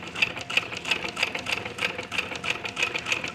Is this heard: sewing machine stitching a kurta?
yes